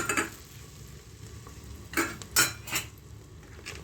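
Ginger and garlic are added to a pan of frying besan with tomato for a tomato-coriander shorba, bringing a few sharp metallic clinks and scrapes of a spoon over a low, steady sizzle.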